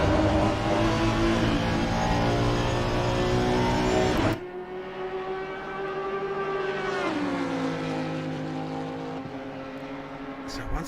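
Race car engines roar during a PC racing game endurance race at Spa, a loud sustained high-revving drone that drops abruptly partway through, then climbs again through shifting gears, with a commentator talking over it.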